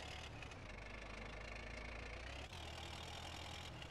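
Tractor engine idling in GTA San Andreas Multiplayer, a steady low rumble that holds evenly throughout with a slight dip midway, no voices over it.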